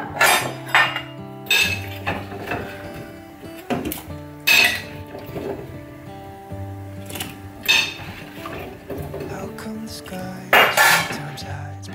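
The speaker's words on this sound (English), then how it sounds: "Okay, so I'm just going to add the potatoes in." Potatoes tumble into a metal cooking pot with repeated clanks and clinks of pot and utensils, loud and close, in irregular bursts over about twelve seconds.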